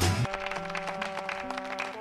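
Clapping within a song, a steady patter of hands mixed into the sustained tones of the music, moderately quiet and continuous throughout.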